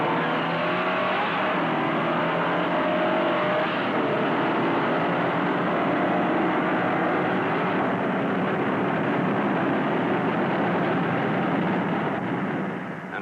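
Two early-1960s cars, a Ford Galaxie and a Chevrolet Impala, in a second acceleration heat, give a steady loud engine roar that holds throughout without pause, with no talk over it.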